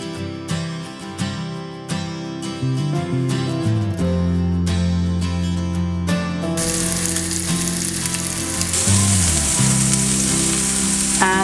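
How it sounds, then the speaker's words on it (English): Paneer malai tikka skewers laid in a hot pan, breaking into a loud, steady sizzle after a stretch of background music, continuing close and unbroken. "we're going to just put them on the pan."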